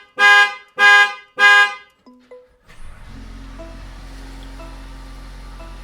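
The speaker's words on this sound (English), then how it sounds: "once the vehicle starts, it will turn the alarm off" A Mercedes-Benz GLB 250 car alarm blares three loud, close horn bursts in a steady rhythm, then cuts off amid a few clicks and chimes as the engine starts and settles into a low idle.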